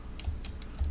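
A web address typed on a computer keyboard: a few quick, soft key taps close by in a quiet room.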